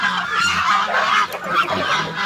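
Geese honking loudly and continuously, a dense overlapping chorus of nasal calls close by, with a low rumbling background.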